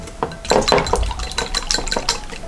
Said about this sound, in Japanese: ここにお水をね、大さじ2杯っていうと 30cc ですので、これ入れていきます。